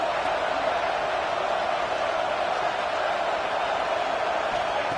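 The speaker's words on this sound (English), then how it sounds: "It's early, but this crowd is fired up. Listen to this noise here." Stadium crowd in a football video game, a steady loud roar of many voices that holds evenly throughout with no breaks.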